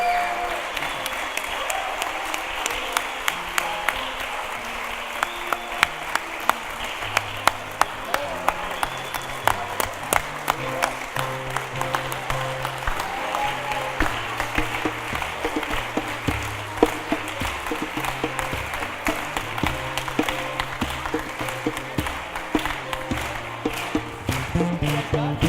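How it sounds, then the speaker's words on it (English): A congregation at a Teacher Appreciation Shabbat service applauds its teachers, with sustained, dense clapping across the whole stretch and occasional sharper claps standing out from the crowd. "how about a great round of applause for these wonderful, fantastic teachers at Temple Beth"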